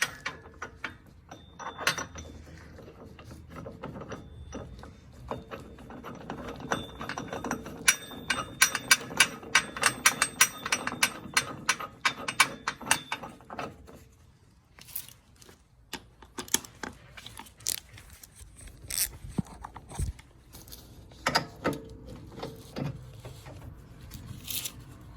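A socket ratchet tightens a 3/4-inch bolt while an air suspension bag is fitted to a 2020 Toyota Corolla, with rapid close clicking bursts and small metallic knocks in an irregular rhythm.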